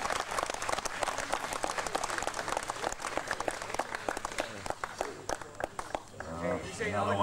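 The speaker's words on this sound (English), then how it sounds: "You can really clap him this time" Audience clapping at the 1995 IFMAR Worlds prize ceremony in Phuket, a steady dense patter of many hands sustained throughout, fading near the end as a voice begins speaking over it.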